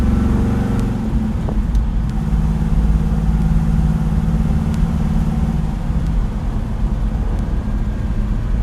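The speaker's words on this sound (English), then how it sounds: "It's got a great sound. We'll do a couple revs on it so you guys can hear that. Just a really good exhaust note." A 1969 Chevrolet Chevelle SS tribute on the move gives a steady, loud, low exhaust rumble with a deep droning note that holds fairly even throughout, with no talk over it.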